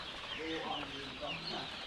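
Newly arrived chicks cheep in a poultry house, a cluster of thin, high chirps rising and falling close by over a soft background hum, with faint talk mixed in.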